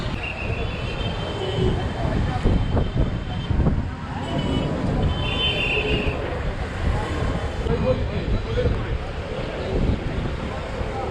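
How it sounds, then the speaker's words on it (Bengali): Strong storm wind at the outdoor 300 Feet Nila Market buffets the microphone with a continuous roaring rumble while voices talk beneath it. "প্রচুর বাতাস।"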